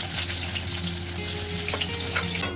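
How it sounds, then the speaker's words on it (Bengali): Onions sizzle and crackle in hot oil for chicken, a dense steady frying hiss close by with scattered pops and no talking. "এবার তেলের মধ্যে দিয়ে দিচ্ছি পেঁয়াজ, চিকেনটা কষাবার জন্য।"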